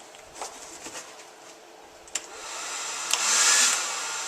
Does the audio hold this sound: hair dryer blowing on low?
yes